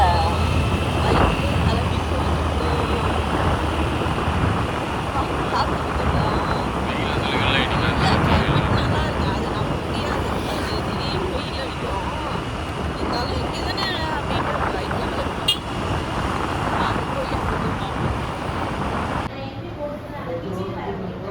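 Constant roaring wind and engine noise from riding a motorbike on the road at night, loud and unbroken for most of the stretch, easing off near the end.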